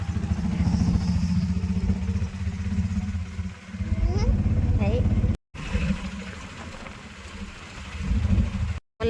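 An auto-rickshaw engine chugs and rattles continuously during a ride, a close, throbbing putter that surges and dips, with people talking over it throughout.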